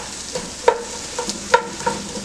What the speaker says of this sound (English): we're going to stir in the chopped onions